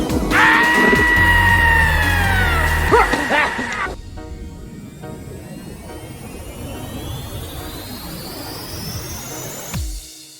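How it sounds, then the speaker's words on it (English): A person screams loudly and in a sustained, high-pitched way for about four seconds, then it cuts off abruptly, leaving a quieter hissing, whirring background that fades out. "you scream like a girl"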